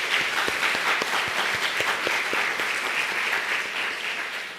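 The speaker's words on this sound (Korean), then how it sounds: "우리 같이 박수하도록 하겠습니다" Church congregation applauding to welcome a newly registered member during a Korean Methodist service, a dense, steady wash of many hands clapping that fills the room and fades slightly at the end, with no speech over it.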